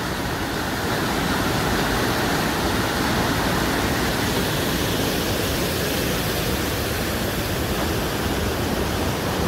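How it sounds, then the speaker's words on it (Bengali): A small waterfall, its water rushing down hard and close by, fills the air with a loud, steady roar that never lets up and has no voices over it. "দেখুন এইখানটা দিয়ে খুব জোর নামছে জলটা"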